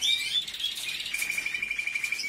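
Songbird in an aviary singing close and clear, with a high bright thread of rapid chirps and whistled trills that continues without pause.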